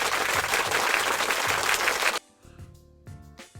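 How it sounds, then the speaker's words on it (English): Dense crowd applause fills the first two seconds, then cuts off abruptly into a quieter stretch with faint tonal background sound. "for that, Kovacic, you get my weekly round of applause"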